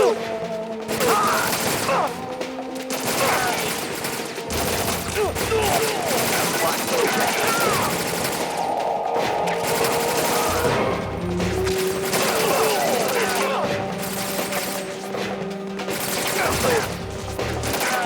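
Rapid gunfire bursts and crashes from the video game Metal Gear Solid 2, loud and continuous, layered over game music and effects.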